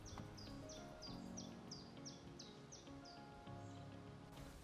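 Small birds call from the banks of the narrow Havel river, sounding a regular series of short, bright chirps about every half second over a steady soft background wash, with no voices.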